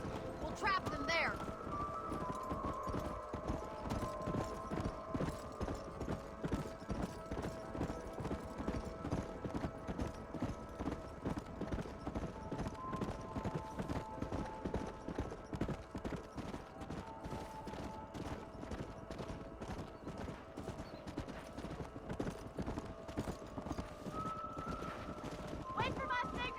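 Horses galloping in Red Dead Redemption, a steady fast clip-clop of hooves pounding on through the whole stretch, with neighs and faint gunfire mixed in and voices talking over it.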